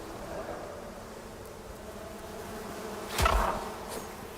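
A bee swarm in the game Icarus gives a steady buzzing drone. A single sharp, louder thump or hit cuts in near the end, then the hum carries on.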